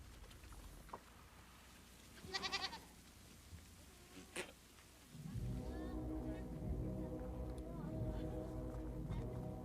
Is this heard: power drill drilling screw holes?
no